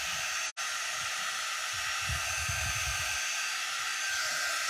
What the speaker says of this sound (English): I'm gonna go ahead and blow dry that. I'm using my quick dry tool